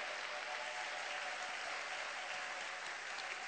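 A church congregation applauds and cheers for God during a sermon. The applause is a steady, dense wash of many hands, moderately distant and unbroken from start to finish.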